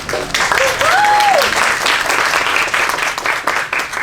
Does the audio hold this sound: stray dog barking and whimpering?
no